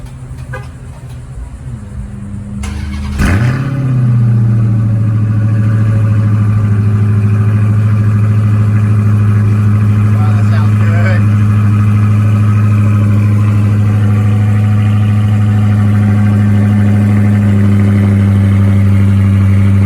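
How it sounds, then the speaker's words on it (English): A Dodge Charger Hellcat widebody cold-starts with a sharp crank and roar, then settles into a loud, steady, deep idle that holds for the rest of the clip. "We can do a nice cold start."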